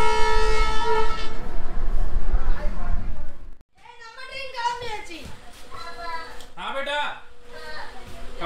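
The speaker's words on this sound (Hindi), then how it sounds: "और हमारी ट्रेन चल चुकी है कन्याकुमारी रेलवे स्टेशन से।" A train pulls out of Kanyakumari railway station in southern India: a loud, steady rumble of rolling cars gives way after a brief break to sweeping, horn-like tones, with nearby voices talking throughout.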